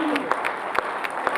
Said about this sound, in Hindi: ये श्रोता खड़े होकर ताली बजा रहे हैं सर